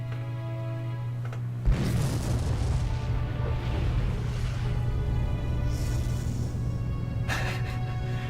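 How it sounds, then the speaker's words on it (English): A massive, drawn-out explosion in the shooter Vanquish bursts sharply, then rolls on as a loud sustained roar and rumble with a steady low hum and scattered crackling bursts. "This is a 2-minute explosion,"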